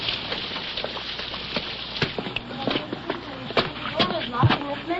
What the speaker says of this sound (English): Let's get in out of the rain and see what the trouble is.